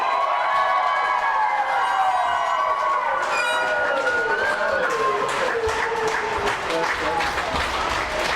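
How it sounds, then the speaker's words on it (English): Wrestling fans at an ECPW Celtic Chaos event chant "Boo SA" at the American Patriot, a dense roaring crowd of voices in a rhythmic chant that swells steadily over constant arena noise. "the fans are chanting "Boo SA.""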